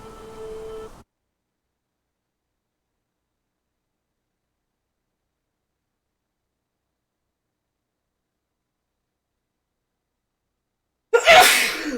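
A single sharp sneeze bursts out near the end after a long stretch of silence, preceded only by a brief, quiet tonal sound at the start.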